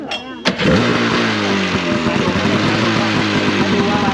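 A motor engine at a fire and rescue training center fires up with a sharp burst, then settles into a loud, steady idle close by, with a voice talking over it.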